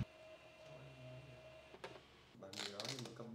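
Xprinter thermal barcode label printer running a print job, a quiet mechanical whir that gives way to louder bursts of feeding and clicking, with someone talking over it.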